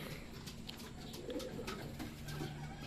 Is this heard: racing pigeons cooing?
yes